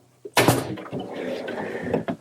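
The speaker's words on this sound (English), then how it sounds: "I love the way these drawers come out." A wooden drawer with iron handles on a kitchen island slides out with a sharp opening thump, followed by a rumbling glide and a soft knock at the end.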